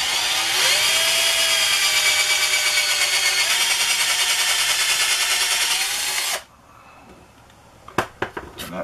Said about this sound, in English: I'm going to use a large drill bit and just go in a little ways so she can fill it with putty